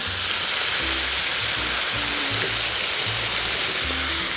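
Vegetable stock hits a very hot pan holding a cauliflower steak, giving a loud, constant hiss and sizzle with bubbling, steady and close for the whole stretch with no talking.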